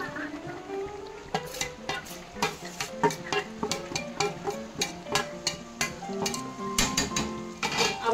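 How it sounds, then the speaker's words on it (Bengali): Raw fish pieces sizzle in a generous amount of hot oil with ground spice paste while being bhuna-fried, with steady crackling and repeated clinks and scrapes of a spatula against the pan throughout. "এবার বাকি যে দুটো আছে কাঁচা, সে দুটো আমি এই তেলটাতেই ভুনে নেব।"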